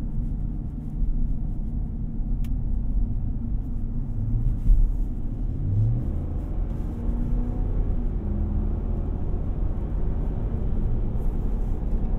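A 2024 Ram 1500 Rebel 4x4 pickup cruises with its 8-speed automatic, giving a steady low cabin rumble and road drone from inside, smooth and continuous with no abrupt changes.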